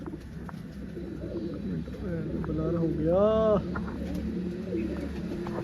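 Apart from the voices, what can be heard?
pigeons cooing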